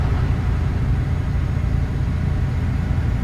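A heavy truck engine in Euro Truck Simulator 2, pulling a tanker trailer, hums as a steady, low, fairly soft drone with no voices over it.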